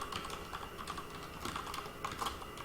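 Quick, light taps of typing on a computer keyboard, steady and close, with irregular bursts of keystrokes and no talking.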